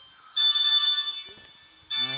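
A mobile phone ringtone sounds in two loud bursts of a bright, repeating electronic melody, separated by a short gap with a faint voice underneath.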